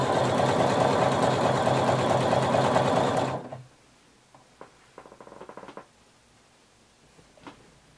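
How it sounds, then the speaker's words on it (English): A sewing machine stitches two pieces of swimwear fabric together in a loud, steady run for about three seconds, then stops abruptly, leaving faint scattered clicks and small handling noises. "So we're going to sew and we're going to be pulling just a little bit until both pieces are even"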